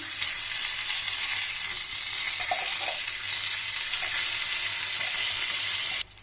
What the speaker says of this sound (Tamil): கடுகு நல்லா பொரிஞ்சதுக்கப்புறம் பார்த்தீங்கன்னா கொஞ்சமாக கருவேப்பிலை சேர்த்திக்கோங்க.